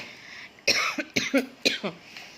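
A burst of harsh coughing, about six quick coughs in two tight clusters, close and loud against a quiet room.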